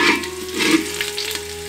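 Ground cumin and garlic hitting hot oil with mustard seeds in a pan for sambar, a brief steady sizzle with light stirring scrapes, close and alone.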